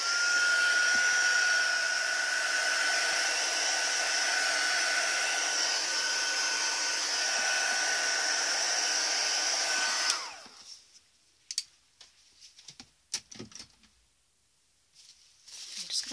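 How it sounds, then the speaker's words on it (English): Handheld heat tool blowing hot air to dry stamping ink on paper, a loud steady close whoosh for about ten seconds before cutting off, followed by quiet handling clicks. "you can use your heat tool"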